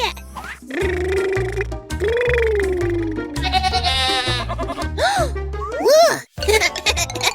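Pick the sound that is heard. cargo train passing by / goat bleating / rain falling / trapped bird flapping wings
goat bleating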